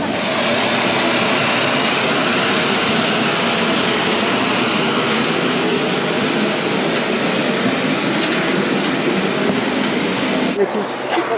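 Airplane engine heard on board a flight to Lukla, Nepal, a loud, steady broadband roar filling the cabin throughout, with speech partly over it before a brief change near the end.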